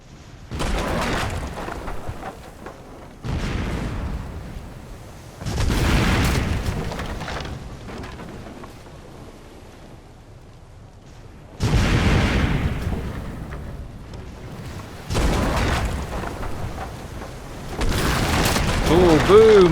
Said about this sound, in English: That one's just gone up in a big explosion.